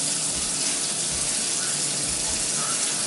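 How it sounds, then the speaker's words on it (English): A kitchen tap runs in a steady, even gush while raw chicken wings are rinsed under it, close and continuous, with no talking. "let me go ahead and get this all rinsed off"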